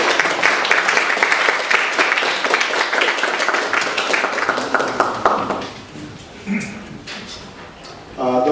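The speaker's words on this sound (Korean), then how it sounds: "우리 환영과 위로와 격려의 박수 한번 해보겠습니다." Congregation at a Korean church worship service in New York applauding to welcome out-of-state guests, steady dense clapping for about five and a half seconds that trails off, with a voice speaking afterward.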